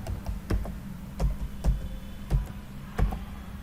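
Fingers tap out a short command on a computer keyboard, a few close, crisp keystrokes in an uneven rhythm separated by brief pauses, with no voices.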